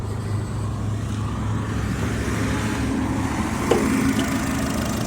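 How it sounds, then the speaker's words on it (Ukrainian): A used car engine idles steadily under an open hood, a smooth even hum with a low rumble running the whole time, fairly close, with a brief small knock near the end. "Моторчик працює чистенько, рівненько, нічого ні цокає, нічого."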